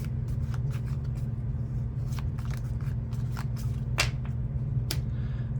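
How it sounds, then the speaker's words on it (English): A light shuffle of playing cards during a quick-play tabletop baseball game: a run of crisp, riffling card snaps and flicks, close and clear over a steady low hum, with no voices. "I like to give a light shuffle"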